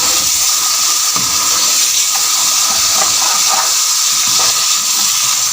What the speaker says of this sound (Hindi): अब हम इसमें 3 टेबलस्पून दही शामिल करेंगे।